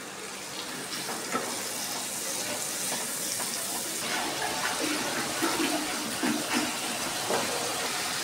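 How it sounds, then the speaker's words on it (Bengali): Water poured into a pan of frying spices, chilli powder and Kashmiri chilli powder, for a Bengali taro chicken curry, giving a steady rushing hiss and sizzle throughout, close and fairly loud, with no talk. "এবার আমি মশলা যাতে পুড়ে না যায় তার জন্য দিয়ে দিচ্ছি জল।"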